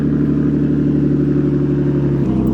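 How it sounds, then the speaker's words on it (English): A small modified car at the Tokyo Auto Salon 2025 parking lot revs hard, its engine holding a loud, steady high-rpm drone close by, then dropping in pitch near the end. "That's an angry GDR."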